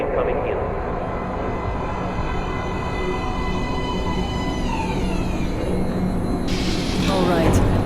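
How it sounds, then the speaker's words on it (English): A subway train pulls into a platform in the Metro: Last Light video game, a steady loud rumble and rail roar building toward the end, with a brighter screech near the close. "Please step away from the edge of the platform. Train coming in."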